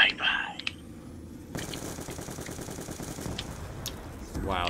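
Rapid automatic gunfire in Black Ops II Zombies, a continuous spraying burst that follows a short stretch of voice. The firing is fairly loud and runs steadily to the end.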